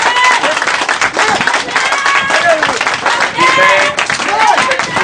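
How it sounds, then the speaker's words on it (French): A crowd at a church revival service in Korhogo claps and cheers loudly and continuously, with voices calling out over the applause throughout. "Est-ce que vous pouvez donner une acclamation aux serviteurs de Dieu qui sont juste à ma bouche?"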